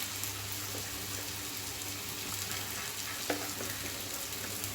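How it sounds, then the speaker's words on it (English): Roasted cumin powder hits a hot pan for a pumpkin, peas and potato sabji, producing a steady close sizzle with a brief clink partway through and no talking. "now I am adding this roasted cumin powder"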